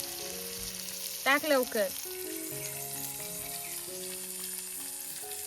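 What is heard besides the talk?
onion and tomato sizzling while sautéed in a pan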